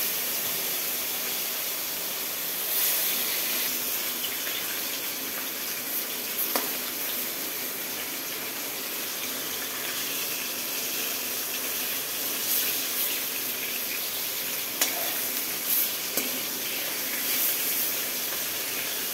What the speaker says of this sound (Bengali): মাছ ছাড়লাম বন্ধুরা, ভয় লাগছে গরম তেলে।